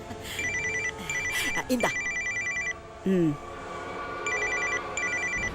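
A telephone bell rings in repeated bursts, stopping and starting across the scene, with a short spoken word and other voices over it in a Tamil TV serial household.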